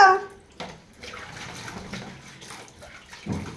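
Warm water is poured into a child's bath at home in a few brief splashing bursts, the loudest at the start and again near the end, with quieter trickling between.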